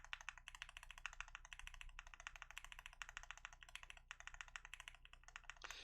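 Keys on a Mode 80 mechanical keyboard with the switches mounted without a plate, pressed in fast continuous typing, a close, crisp clatter of overlapping clacks with no talk.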